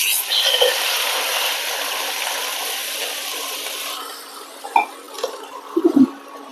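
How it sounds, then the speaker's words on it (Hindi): Caramelized sugar and full-cream milk are stirred in a pan over low heat, a steady wet bubbling hiss that fades midway, followed by a few soft clinks of the spoon against the pan. "धीमी आंच पर बराबर चलाते हुए इस तरह से मिक्स करते रहेंगे, इसे अच्छे से मिक्स हो जाए"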